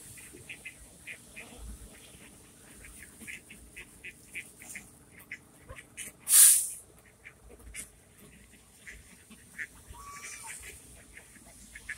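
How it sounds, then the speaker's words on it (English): Ducks and other birds gathered in downtown Lakeland, Florida, giving scattered soft calls over steady outdoor ambience, with one loud close burst of hiss or squawk partway through. "I'm playing with this lots of birds here."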